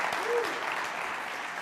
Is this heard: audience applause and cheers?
yes